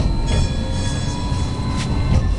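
Electron tram travelling through Lviv, heard from inside the car: a steady loud rumble of wheels on rails with faint squeals and clicks, and no talking.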